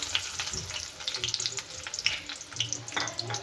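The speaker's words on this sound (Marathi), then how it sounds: "एक छोटा कांदा घेतला आहे होईपर्यंत छान भाजून घेऊया" Onion fries in hot oil with a lively sizzle, punctuated by scraping stirs and small pops, close up and without speech.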